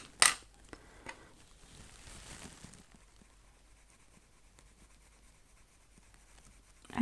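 Coloured pencils being blended on paper, producing faint, soft scratchy rubbing strokes in short bursts, with a light tap at the start and a quiet stretch afterwards.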